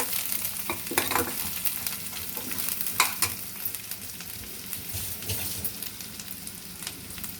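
Marinated chicken with egg fries in oil with ginger and garlic, giving a dense, continuous crackling sizzle with a few sharper spatula scrapes near the start.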